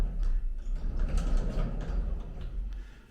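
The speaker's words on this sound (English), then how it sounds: "I like these little sliding doors that they have." Small sliding shower doors in a two-story São Paulo Airbnb rolling along their track, a close run of rattling, grinding mechanical scrapes and soft knocks, no voices.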